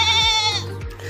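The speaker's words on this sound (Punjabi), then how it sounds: "ਬਾਈ ਕੋਲ ਬੱਕਰੀਆਂ ਅਤੇ ਇਹ ਵੀ ਸਫੇਦ ਕਲਰ ਦੀਆਂ" A goat bleats in a long, wavering call, steady and close, then a second shorter bleat follows near the end on a farm holding white goats of the Rajanpuri breed.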